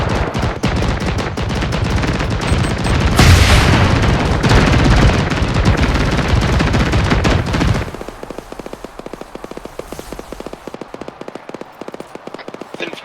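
Sustained carbine gunfire from a military shooter video game roars loud and dense for about eight seconds, dropping to quieter scattered shots and rapid ticking afterward.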